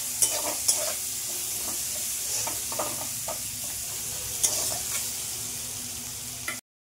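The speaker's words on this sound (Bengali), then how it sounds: "আমি পেঁয়াজটা দিয়ে দিয়েছি, পেঁয়াজটা ভেজে নেবো ভালো করে।" Onions frying in a pan for a Bengali meat-style curry, a steady close sizzle with occasional soft stirring scrapes, continuous throughout.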